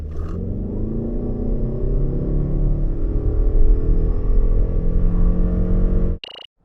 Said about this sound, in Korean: 라브4 플러그인 하이브리드, 과연 발진 가속 성능 얼마나 나왔는지 볼까요?